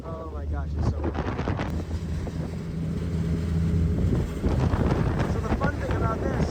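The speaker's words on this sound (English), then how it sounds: "Oh, it's so windy." Strong wind buffets the microphone on an NYC Ferry deck with a constant low roar while a person talks, and an engine hum rumbles underneath.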